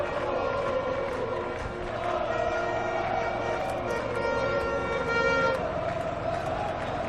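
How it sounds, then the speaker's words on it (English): Crowd at the Qatar MotoGP night race roars and cheers in a sustained wash of noise, with horn-like tones and tooting rising above it, loud and continuous throughout. "Listen to the crowd."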